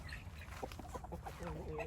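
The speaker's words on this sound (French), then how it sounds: "le coq Brahma" A Brahma rooster clucks in a short series of soft, close calls in a farmyard pen, with low background rumble.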